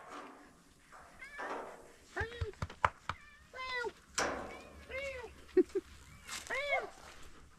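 Several cat meows, some rising and falling, sound close by in a garage-like workshop amid scattered talk and clatter.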